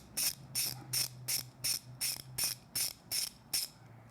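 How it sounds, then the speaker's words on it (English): A T20 Torx ratchet clicks rhythmically about ten times at a steady pace, close and crisp, while a brake light switch is unscrewed from a Triumph Street Twin motorcycle master cylinder, with no talking. "While you're still holding the master cylinder in your hand using the T20, you want to remove the brake light switch."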